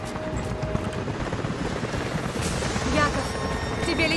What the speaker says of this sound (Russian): тебе летят вертолеты